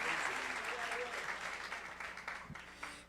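A church congregation applauds a guest preacher with steady, fairly loud clapping, and a voice speaks over the applause.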